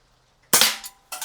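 A KJWorks M700 take-down gas airsoft sniper rifle fires a single sharp, loud crack up close, followed by a brief metallic clack shortly after.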